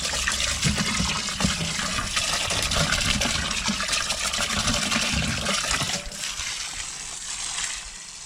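Water runs in a strong, steady gush while something is rinsed on a farm, filling the scene with continuous splashing flow that eases slightly near the end.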